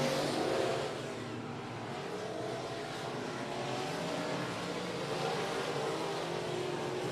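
Race cars roar around the 105 Speedway oval at full throttle, a steady, distant wash of engine noise that swells and fades as the pack battles for second place.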